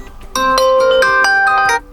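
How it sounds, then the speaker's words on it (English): A bright electronic ringtone melody plays loudly from a POCO C40 phone for under two seconds, quick plucked notes in a bouncy pattern, with nothing else audible. "And this is your brand new ringtone."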